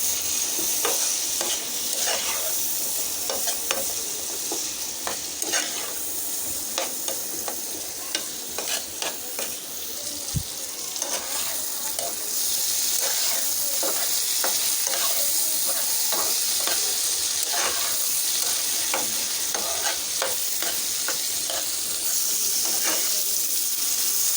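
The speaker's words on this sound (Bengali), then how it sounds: "এখন আমি এটাকে ভালো করে ভেজে নেব" Steady, loud sizzling of taro corms frying in a pan, with occasional stirring scrapes and crackles running throughout.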